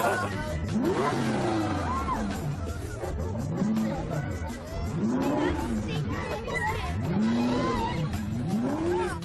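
Zonda sports car engine revving and accelerating hard in repeated rising and falling sweeps, loud and close, with crowd chatter underneath.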